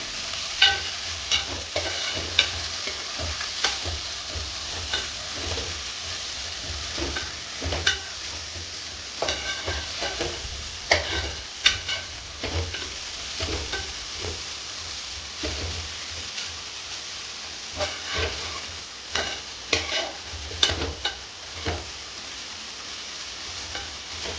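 Onion and turmeric sautéing in a pan for Kerala-style mutton curry, a steady frying sizzle broken by frequent scraping clicks of a spoon stirring against the pan.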